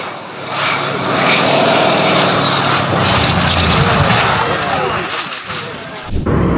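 A loud Antonov An-2 propeller biplane engine drones continuously nearby during an air show, a rough throbbing roar that fades slightly toward the end.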